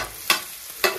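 Onion, garlic and ginger frying in mustard oil with asafoetida, cumin and jakhiya, a steady hiss punctuated by three quick scraping stirs, close and fairly loud, no speech.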